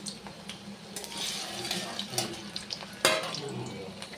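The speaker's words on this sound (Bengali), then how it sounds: "প্রথমে আলুগুলো ভালো করে ভেজে নেব" Potatoes frying in a pan for a Bengali chicken kasha, with a steady low sizzle, occasional stirring scrapes and a sharper clatter about two-thirds through.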